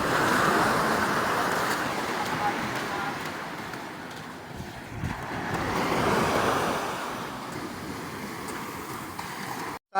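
Ocean waves washing onto a beach in Bicol province, a steady broad surf roar that swells and ebbs, with wind buffeting the microphone and no voices.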